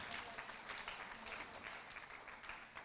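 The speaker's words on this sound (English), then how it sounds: "Why don't you guys give them a hand clap already?" An audience at the 21st annual Marion County spelling bee applauds the spellers, a steady, even wash of many hands clapping together, moderately loud and continuous throughout with no voices over it.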